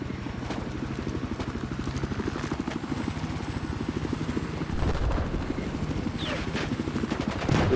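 Helicopter flying low in a 12v12 multiplayer video game, a steady rapid rotor chop throbbing throughout with occasional gunfire clatter and a voice commentating over it.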